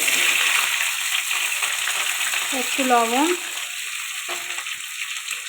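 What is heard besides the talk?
green beans frying in oil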